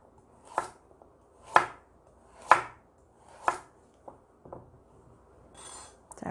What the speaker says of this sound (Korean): 먼저 당근을 좀 잘라 보도록 하겠습니다